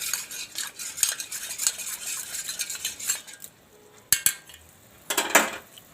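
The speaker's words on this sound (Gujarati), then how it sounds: "ખાંડ થઈ જાય, ઓગળી જાય, એટલે આપણે આને એકવાર હલાવી, આ રીતે આને હલાવી લેવાનું" A utensil stirs melting sugar in a pan for Bombay Karachi halwa, with repeated scraping and clinking strokes, a short quiet pause, then a few sharper metallic knocks and more scraping.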